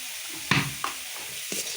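Beet paste ground with chili, garlic and black cumin hits hot oil with salt, giving a brief soft sizzle and a few sharp stirring scrapes and clicks close by, with no talking.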